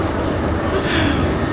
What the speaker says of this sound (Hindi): मैं हूँ अभी फ़िलहाल मेट्रो पे, जो कि पीछे आप देख भी पा रहे होंगे